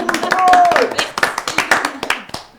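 A small audience claps and cheers after a speaker thanks the Grandes Rousses, a short burst of applause mixed with voices and shouts, close and lively.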